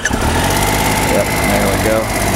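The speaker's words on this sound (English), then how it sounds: "Let's see if I can crank it without pulling the kickstand up." A Triumph Explorer motorcycle with about 21,000 miles runs with a steady, loud engine drone after cranking, holding a constant close-up rumble throughout.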